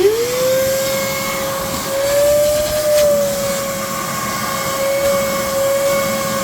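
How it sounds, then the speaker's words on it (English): A RIDGID 6-gallon NXT wet/dry vac runs while vacuuming a car, giving a loud, steady motor whine with a rushing airflow hiss that shifts slightly as the nozzle moves, alone without speech. "this commercial grade vacuum cleaner I'm gonna use for my car"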